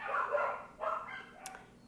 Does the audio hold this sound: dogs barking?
yes